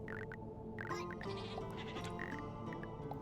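Goats bleating in the Gnomes tower defense game, several short wavering bleats over a steady droning game soundtrack.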